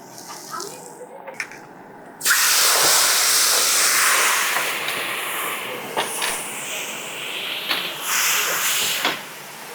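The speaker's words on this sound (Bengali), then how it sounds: "আমি এটা দুটো লঙ্কা ফোড়ন দিয়ে দিলাম তারপরে একটুখানি ওপর থেকে হিং ছড়িয়ে দিলাম" Two dried red chillies and a pinch of asafoetida hit hot oil for tempering, bursting into a loud, steady hiss after a quieter start, with fluctuating crackle close by.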